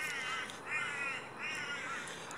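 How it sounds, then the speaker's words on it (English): Several crows cawing in repeated harsh bursts outdoors near a tree in the early morning, fairly close and loud, with no talking. "Okay, so the crows are here, so that's okay."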